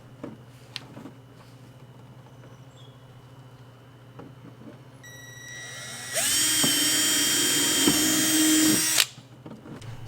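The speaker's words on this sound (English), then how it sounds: "So I drilled a hole right there," A power drill bores a hole near the fender liner of a 2021 Toyota Tacoma, a loud high whine that spins up, holds steady for about three seconds, then cuts off, after quiet garage background with light knocks.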